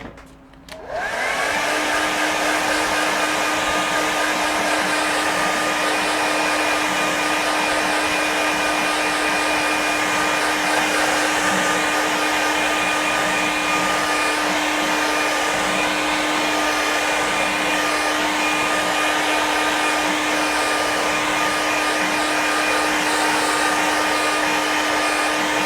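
A hair dryer blows steadily and loudly for the whole stretch, starting up abruptly and then holding a constant whine and rush of air as it dries a watercolour painting.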